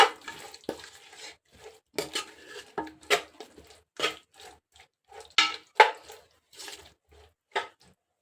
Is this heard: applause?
no